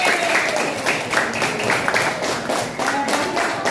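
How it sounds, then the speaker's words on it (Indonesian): Grade 4 pupils in a classroom clap together for a student group, a steady dense patter of many small hands that carries evenly throughout without pause. "Iya, kita beri tepuk tangan dulu semuanya."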